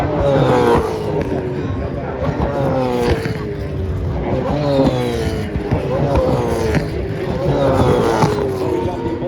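A Ford Mustang V8 Supercar races during qualifying at the Perth round, its engine roaring loud and continuous with rising and falling pitch through gear changes and mid-course corners, while a commentator talks over it.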